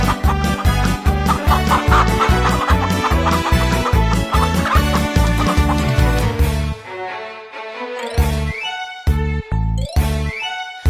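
Chickens cluck over a loud, steady electronic beat with chiming tones at an empanada festival in Batac City; the beat drops out briefly near the end, then returns.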